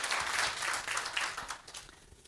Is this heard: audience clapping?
yes